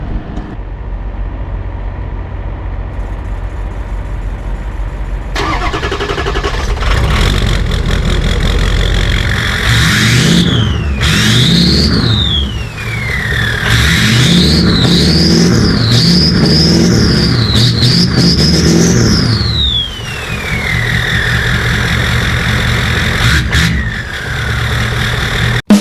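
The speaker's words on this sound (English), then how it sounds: "I got a Ford 250 4x4 Powerstroke. I think it's time for a cold start." A Ford F250 4x4 Powerstroke diesel pickup cold-starts with a cranking burst, then settles into a loud, close, clattering idle, revving up and down in several rising and falling sweeps before dropping back to idle.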